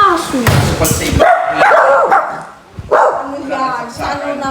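Startled dogs break into sharp, loud barks and yips in quick bursts, close by, mixed with people talking and laughing in a festive household.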